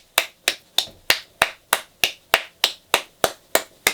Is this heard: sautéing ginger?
no